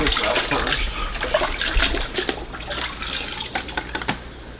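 Running water splashes over a coarse filter pad from an Eheim 4+ Professional 250 canister filter as it is rinsed, a loud continuous gush broken by sloshing and dripping bursts.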